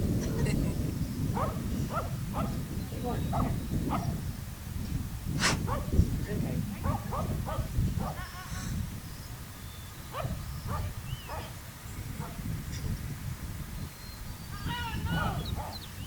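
Small dogs trotting along give off a scatter of short yips and barks throughout, some close and some farther off, with people talking over much of it.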